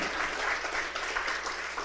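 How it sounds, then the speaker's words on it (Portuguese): Audience at a church gathering applauds, a brief, fairly faint patter of many hands clapping at a steady level. "Palmas para vocês."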